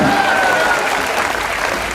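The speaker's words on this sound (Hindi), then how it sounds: "जोरदार तालियां होनी चाहिए।" Loud, steady applause from the crowd at a Holi hasya kavi sammelan, a comic poetry gathering, with dense clapping throughout and a faint voice underneath.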